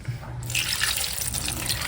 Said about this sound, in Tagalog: Ito po ay lalagyan ko na lang ng tubig.